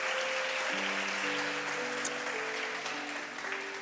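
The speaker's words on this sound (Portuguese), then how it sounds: "Você pode aplaudir a Ele nessa noite" Congregation applauding during an evening church service: a steady, diffuse wash of clapping throughout, with sustained organ or keyboard chords held underneath.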